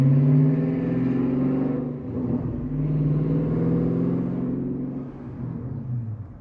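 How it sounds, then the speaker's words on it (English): A loud car passes by outside, a deep rumbling engine swelling and fading over several seconds, heard alone without talk. "that car was really loud."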